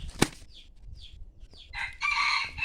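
A young rooster crows loudly nearby after a sharp flap and a few short clucks, the crow lasting under a second.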